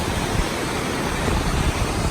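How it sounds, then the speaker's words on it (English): A Himalayan waterfall roars from close at its base, a dense, continuous broadband rush of falling water, loud and unbroken, with no voices. "Now we're at the bottom of that waterfall."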